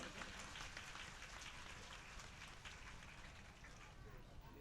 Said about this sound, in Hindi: एक बार जोरदार तालियों से अभिनंदन कर दें।